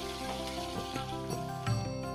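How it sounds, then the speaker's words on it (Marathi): Garlic, ginger and asafoetida sizzling in hot oil in a pan for a simple Maharashtrian kadhi meal, a steady close crackling hiss with a few louder pops and stirring knocks. "लसणाला जे आहे ते थोडं तेलामध्ये शिजू द्यायचं"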